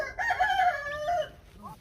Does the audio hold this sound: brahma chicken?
yes